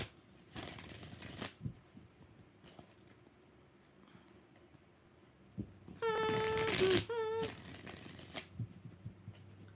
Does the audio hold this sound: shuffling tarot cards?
yes